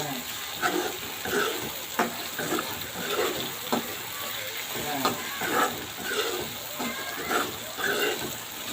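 Small raw shrimp fry with chilli powder in a pan, giving a constant close sizzle broken by repeated stirring scrapes and clinks. A person talks over the cooking.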